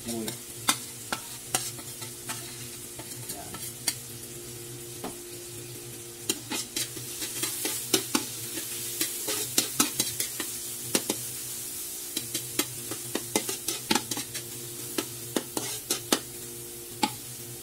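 Tomato, onion, green chili and garlic sauté in a pan for an adobong tilapia dish, a steady sizzle broken by frequent sharp clinks and scrapes of a spoon stirring against the pan, close and fairly loud, with no talking.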